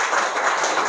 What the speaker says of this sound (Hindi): हाँ, इन लोग के लिए एक बार ताली बजा दीजिए।